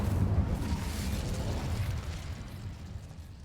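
A fire spell cast in a Harry Potter-style video game, a soft whooshing burst of flame that swells at once and fades into a low rumbling hiss.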